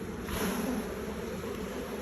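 Honey bees buzzing at an opened hive, a steady dense drone filling the air without pause, fairly faint and alone with no voices.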